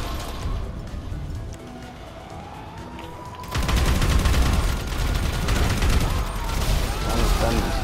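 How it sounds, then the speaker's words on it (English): Rapid pistol gunfire in the GTA 5 video game, a dense burst of shots erupting after a quieter stretch and continuing loudly over game noise. "Oh, took out a pistol."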